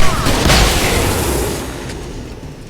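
A gunshot from the Alan Wake Remastered video game: a loud, booming blast at the start whose echo fades slowly through the rest of the moment, with no voices.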